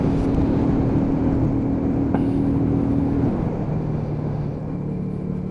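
A Lexmoto Hunter 50cc motorcycle rolls over a speed bump, its small engine giving a continuous close rumbling drone with a steady whine that eases slightly toward the end.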